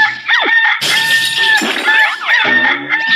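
Rooster crowing, a drawn-out call with strong rising and falling harmonics that fills most of the moment, loud and close, with clucking fowl and rustling around it and no speech.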